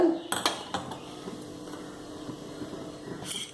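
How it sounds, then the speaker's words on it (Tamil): A metal pan is set down on a kitchen stove with a few sharp clanks, followed by quieter rattles and a low steady hum as the burner is lit. "ஒரு பேன் அடுப்பில் வச்சு அடுப்பை பற்ற வச்சுக்கோங்க"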